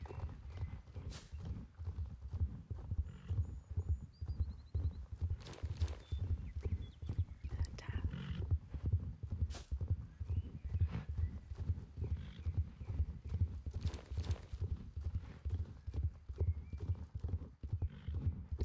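Horse hooves clip-clopping at a steady walking rhythm in the Star Stable Online video game, close and even throughout, with a few faint game chimes and a brief whinny over it.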